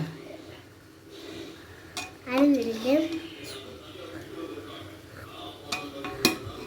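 Biryani stirred and turned over in a pot, with scraping metal spoon clinks and a few sharp knocks against the pot, mostly soft and intermittent while a person talks nearby.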